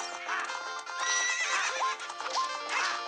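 A horse in The Legend of Zelda: Ocarina of Time whinnies repeatedly in quick, bright bursts over steady clip-clopping hooves, loud and close with a synthetic, game-like tone.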